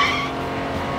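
Cartoon race car tires squeal and skid as the car slides out of control near the finish line, a loud high screech over engine roar that fades slightly across a single second.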